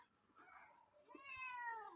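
A cat gives a single soft, drawn-out meow indoors, quiet and fairly close, after a moment of near silence.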